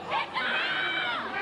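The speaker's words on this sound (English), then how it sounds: "You can hear the crowd too." A spectator crowd at a rugby league carnival match raises a mid-distance roar of cheering and shouting. It holds steady for the whole moment, with excited voices mixed in.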